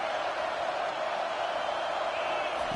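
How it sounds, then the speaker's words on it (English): A stadium crowd in an American football video game roars steadily on third and long, a dense, constant wash of cheering and noise with no distinct voices standing out. "Defense getting a boost from this crowd on 3rd and long."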